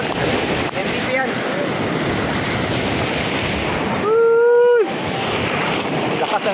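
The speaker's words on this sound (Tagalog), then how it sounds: "Lakas ng alon." Strong ocean waves crash onto the La Union shore in a continuous roaring surge mixed with wind noise, interrupted briefly by a short, clear tonal call.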